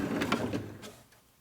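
A workshop drawer rattles and slides open with a short scraping, clattering mechanical sound nearby, then settles into quiet.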